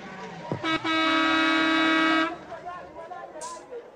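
A car horn blares one short toot, then a single long, loud sustained honk lasting over a second, close by, with faint background noise and a brief voice afterward.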